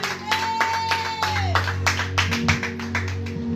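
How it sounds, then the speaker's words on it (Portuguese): A church congregation claps in a quick rhythmic beat during a worship service, the hand claps steady and moderately loud over sustained musical tones. "As palmas é para Jesus"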